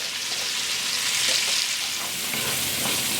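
Sliced celery and chopped onion fry in a pot for a corn and zucchini chowder, giving off a steady, close, hissing sizzle with faint stirring scrapes and no voices.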